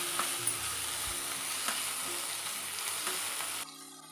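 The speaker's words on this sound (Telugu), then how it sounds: "మరొక 2 నిమిషాలు వేగనిద్దాం." Chopped ivy gourd chutney ingredients with fresh coriander frying in a pan, a close, steady sizzle and crackle that fills about four seconds before dropping away at the end.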